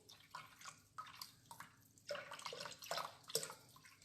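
Coconut milk pours from a cut carton corner, giving soft irregular splashes and drips that grow a little louder toward the end, quiet and close.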